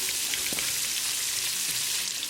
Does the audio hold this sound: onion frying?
yes